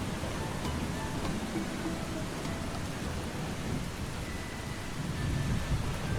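A thunderstorm in the video game Eastshade: steady rain hisses and patters with low rumbling thunder underneath, a constant dense wash of storm sound with no speech.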